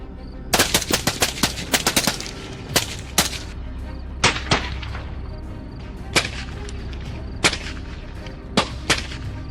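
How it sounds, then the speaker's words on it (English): A volley of sharp gunshots from a night wild boar hunt on farmland, some in quick bursts and others spaced apart, ringing out loud and close with a brief echo after each. "a series of gunshots rang out"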